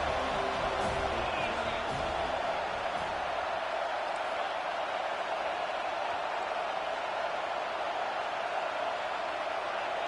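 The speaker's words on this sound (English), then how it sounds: "Decibels rising as the crowd gets behind this defense on third down." Loud football stadium crowd roaring steadily behind the defense on a third-down play, a broad sustained wash of cheering that fills the whole stretch with a commentator's voice faintly underneath.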